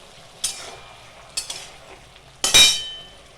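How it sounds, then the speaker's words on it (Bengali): A lid lifted off a pot of simmering vegetable chorchori with drumsticks: two light metallic taps, then a sharper clatter and a burst of hiss, close and clear with no talking. "এখন চাপাটা তুলছি"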